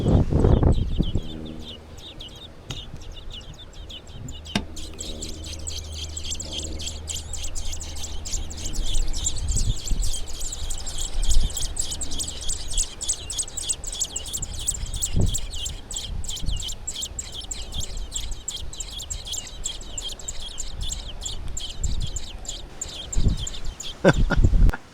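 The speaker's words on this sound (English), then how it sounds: "I heard some tiny little birds squeaking" Tiny birds squeak from a nest in springtime, a steady stream of high, rapid chirps running throughout at close range, with a few low thumps and rustles underneath.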